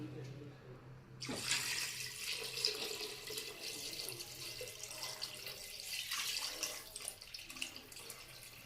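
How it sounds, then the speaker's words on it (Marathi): Water pours steadily into a mutton mixture in a cooking pot, a soft continuous splashing and trickling that starts abruptly and runs without pause, faint and close. "आता मी याच्यामध्ये आवश्यकतेनुसार पाणी टाकते"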